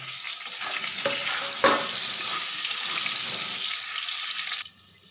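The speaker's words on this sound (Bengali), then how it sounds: "এবার আলুর সাথে আমি বেগুনটাকেও ভাজতে দিয়ে দেবো" Potato and eggplant pieces fry in hot oil in a pan, giving a steady, close sizzling hiss that stays even throughout and then drops away near the end.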